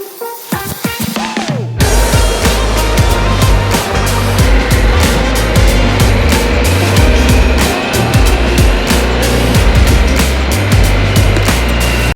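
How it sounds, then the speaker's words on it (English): Motorbike engine idling just after being started, a loud steady rumbling drone heard close up, with a brief rustle before it settles into a continuous running tone. "I just turned the bike on after getting a coffee."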